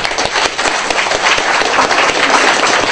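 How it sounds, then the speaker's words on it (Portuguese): An audience applauds the mayor at a municipal government ceremony in Espigão do Oeste, producing steady, dense clapping that fills the room at close range and holds throughout, with no talk over it. "Eu queria que vocês aplaudissem,"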